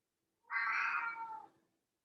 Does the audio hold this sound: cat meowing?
yes